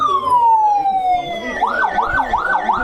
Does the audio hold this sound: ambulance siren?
yes